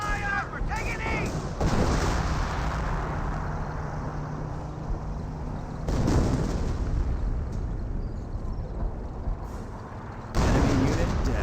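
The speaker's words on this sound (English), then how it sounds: "We're taking fire." Battle gunfire and explosions in Company of Heroes, with heavy booming bursts and dense shooting over a loud continuous din, under voices.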